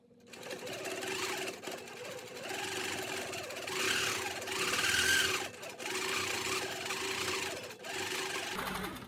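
A longarm quilting machine stitches steadily while tracing around a letter M, a close, rapid mechanical chatter of needle strokes that swells and eases as the machine moves, with brief pauses.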